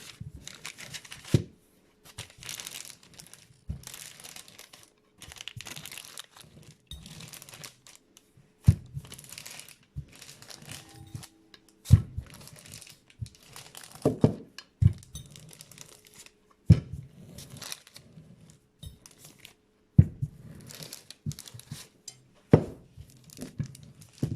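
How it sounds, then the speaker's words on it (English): Cracker dough made with black beans and nettles is rolled between two sheets of baking paper, giving close, intermittent crinkling rustles broken by sharper crackles and pops, with no talking. "So I have just chucked some dough in between two pieces of baking paper, and then I'm going to roll it while it's in there."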